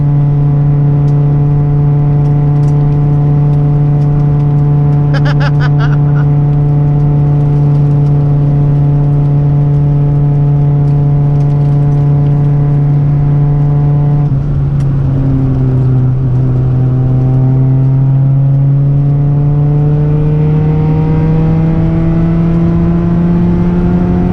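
A Honda CRX engine pulls hard at full throttle, a loud, steady rising drone heard from inside the car, with a brief dip at a gear change before it climbs again.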